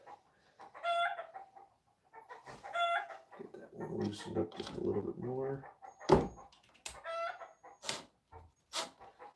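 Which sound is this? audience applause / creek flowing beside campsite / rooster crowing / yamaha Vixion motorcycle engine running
rooster crowing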